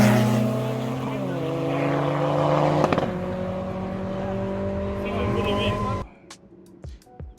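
A VW Golf MK1 with the 8-valve engine running steadily, its engine note shifting in pitch, then cutting off abruptly near the end, leaving quiet rustles and clicks.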